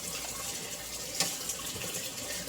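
A steady pour of melted beeswax and honey-soaked honeycomb wax pieces runs as a continuous close liquid rush with a slight splash partway through, with no talking.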